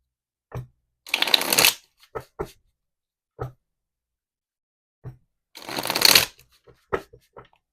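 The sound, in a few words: shuffling Yin Yang Oracle cards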